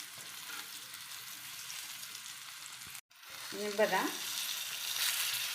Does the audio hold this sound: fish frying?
yes